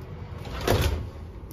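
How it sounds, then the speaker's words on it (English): Sliding pocket door inside a 2023 Exiss STC 8032LQ living-quarters horse trailer, rolling open or shut in one short, soft rumbling slide close to the listener. "Have a sliding pocket door"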